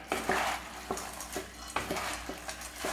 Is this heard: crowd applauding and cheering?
no